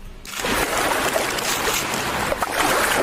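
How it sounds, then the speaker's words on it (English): A loud watery splash with rushing, churning water after a brief quiet start, spreading into a sustained broadband wash for about three seconds. "If I hear one more splash!"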